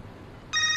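Telephone bell ringing in an office, a bright electronic ring starting abruptly after a quiet moment and sounding loud and close.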